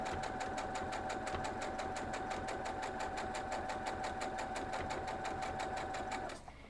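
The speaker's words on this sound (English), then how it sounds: "So let's go sew that up." A sewing machine stitching fabric for a quilt block, running at a steady fast mechanical rhythm close up, then slowing to a stop at the end.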